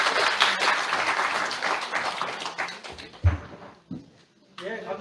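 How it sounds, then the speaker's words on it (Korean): An audience applauds after a lecture at a real estate colloquium, a burst of clapping that fades into scattered claps and a few knocks while people talk. "그럼 우리 박종철 교수님께 다시 한번 뜨거운 박수 부탁드립니다"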